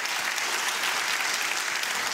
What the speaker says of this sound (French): On les applaudit encore bien fort